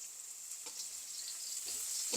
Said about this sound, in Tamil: இந்த பாவக்காவை நான் இப்போ கிளறி விடுறேன். அடியில் உள்ள பாவக்காயெல்லாம் கொஞ்சம் ஃப்ரை ஆகிடுது.